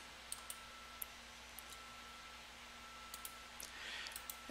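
Quiet, sparse computer mouse clicks while an image is saved on a Ubuntu MATE desktop, single faint taps spaced irregularly over a low hum.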